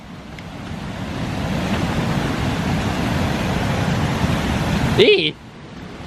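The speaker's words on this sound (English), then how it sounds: "Oh, it's a lot of water." Water rushes steadily at a forest waterfall, a loud, continuous broadband roar that fills the whole clip until a voice squeals near the end.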